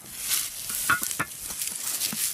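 Bread fries in a pan with a soft, faint sizzle and scattered light crackles and stirring scrapes, steady and close throughout.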